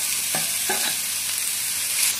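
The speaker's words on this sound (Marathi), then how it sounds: "बघा, असं आपल्याला सारखं हलवत राहायचं आहे" A rose gulkand and sugar mixture is stirred in a kadhai over a low flame, giving a close, constant sizzling hiss with a couple of soft spoon scrapes and no talking.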